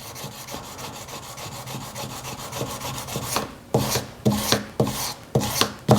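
Metal is rubbed by hand with fine emery paper, first in a steady soft scratching, then in louder, rhythmic back-and-forth strokes close by.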